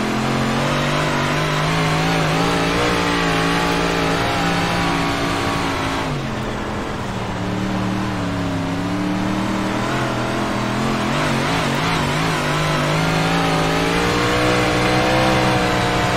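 Dirt big block modified race cars in iRacing at Williams Grove roar steadily at full throttle, a loud sustained engine drone with shifting pitch as cars pass close, continuous throughout with a brief dip midway.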